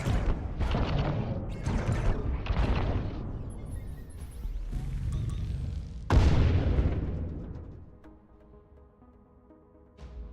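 Missile launched and striking in the space combat game Breachway: a run of heavy booming bursts, then a louder, deeper impact blast that fades into a low mechanical hum, with no voices.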